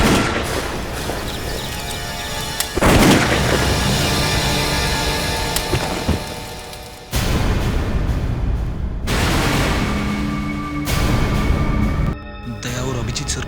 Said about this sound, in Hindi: अब तो आर्या पार है, टैंक को ही गोली से उड़ा देता हूं।